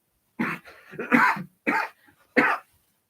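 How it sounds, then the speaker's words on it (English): One person coughs hard in a series of four or five harsh, close bursts with short pauses between them. No speech is heard. "I'm coughing so much, I'm probably gonna die."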